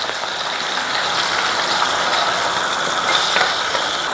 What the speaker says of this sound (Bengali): তেলটা গরম হয়ে গেছে, দিয়ে দেবো মাছ।